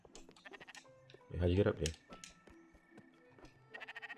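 A game sheep bleats in Spiritfarer, a loud burst of stacked bleats in the middle with fainter animal calls around it, over background game music and someone talking.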